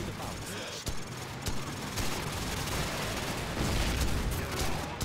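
Gunfire in the video game Call of Duty 4, a string of sharp rapid shots and bursts against a busy battle backdrop, moderately loud and continuous across five seconds.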